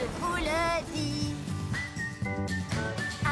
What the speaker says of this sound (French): Je siffle en passant, oui, regardez-moi.